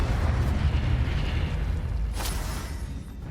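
A Confringo blasting spell explodes in Hogwarts Legacy, a heavy low boom that rumbles and slowly fades over a few seconds, with a faint crackle near the end.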